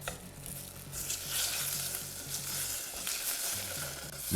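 Tomatoes for a naan bread pizza sizzle in a hot pan with a steady frying hiss and scattered small pops, while a utensil stirs and scrapes in the background.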